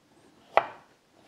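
A knife slices fennel thinly and makes one sharp, close chop onto a board, with silence around it.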